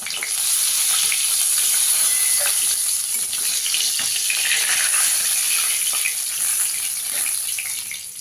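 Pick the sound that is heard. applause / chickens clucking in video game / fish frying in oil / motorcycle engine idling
fish frying in oil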